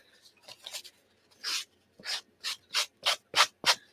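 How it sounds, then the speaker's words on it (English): A sanding block rubs against a paper napkin on a journaling card in a series of short, close, dry scratchy strokes, quickening into a regular rhythm toward the end, with no talking. "I use a sanding block."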